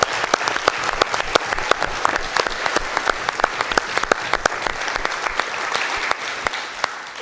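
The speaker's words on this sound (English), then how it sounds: "Let's give them one more round of applause for setting up this amazing event." A gala audience gives a sustained round of applause, dense and steady with many hands clapping and no voices on top.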